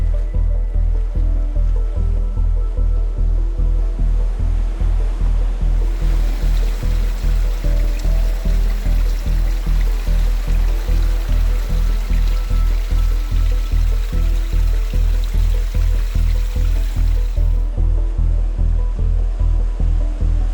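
Waves wash over a beach of large oval stones at Praia do Louriçal near Cabo da Roca, a steady loud surf rushing in a rapid regular churn, close and continuous with no voices.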